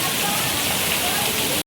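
Rain pouring down in a Konkan village, a dense, loud, even hiss of falling water that cuts off abruptly after about a second and a half.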